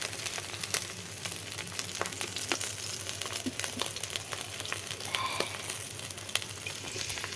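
Frying fish sizzles steadily in a hot pan with oil, a dense continuous crackle with scattered sharp pops, close and moderately loud with no talking.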